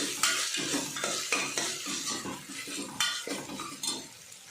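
Ginger garlic paste fries in a pan for a mutton curry, with a metal spoon stirring and scraping in repeated strokes over a soft sizzle.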